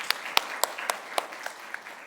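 A church congregation claps together during a Sunday worship service, brief scattered applause with a few sharp individual claps standing out, moderately distant and alone without speech.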